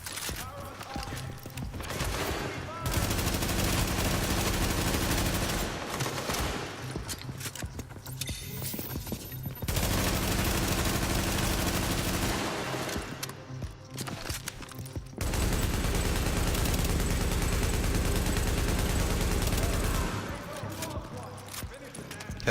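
Bursts of suppressing gunfire from a light machine gun in a PvP survival video game rattle in long rapid volleys, separated by short gaps.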